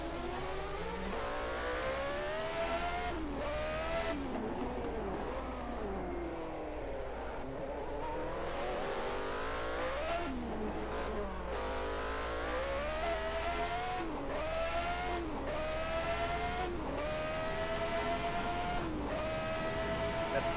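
1991 Monaco Grand Prix Formula One cars with Ford and Porsche engines scream past continuously, engine notes rising and falling through gear changes, with occasional tyre squeal over a steady loud rumble and no talk.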